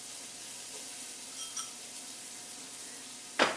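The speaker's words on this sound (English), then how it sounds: "To that we're going to add 1 shallot that's been finely minced." Finely minced shallot sizzles quietly in olive oil in a skillet. A soft, steady frying hiss runs close but faint, and a brief louder scrape or clatter comes near the end.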